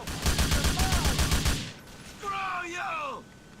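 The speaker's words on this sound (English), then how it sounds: "you can just pick them off like this with an assault rifle" Assault rifle gunfire in Grand Theft Auto IV, fired from a rooftop: a rapid, loud burst of shots for about a second and a half, then quieter game sounds with falling tonal effects.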